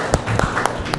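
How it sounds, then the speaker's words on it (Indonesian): Audience clapping at a high school student council debate, several quick sharp claps close by in a short burst. "beri tepuk tangan lagi untuk sanggahannya"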